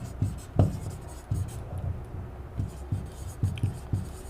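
Pen strokes scratch on paper in short rhythmic bursts close to the microphone, a series of quick scribbles with soft taps between them, during a handwritten lesson.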